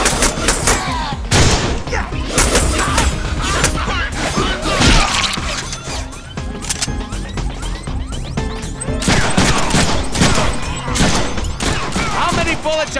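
Dense, continuous gunfire and crashing impacts from the Deadpool video game fill the whole stretch, with shots, smashes and shattering layered thickly throughout, while a voice talks over parts of it.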